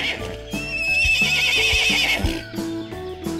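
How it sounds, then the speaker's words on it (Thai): Toy horse from a children's animal toy set plays a long, shrill whinny over a steady clip-clop rhythm of hooves, loud and close, with the hoofbeats carrying on after the neigh fades. "ม้าฮิฮิ"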